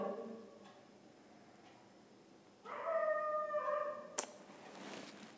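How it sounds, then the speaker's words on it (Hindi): Dogs howling and yelping at night, a faint, somewhat distant drawn-out howl rising and holding, followed by a sharp short yip, with quiet background hiss between calls. "इस रात में कुत्ते भी भौंकने लगते हैं।"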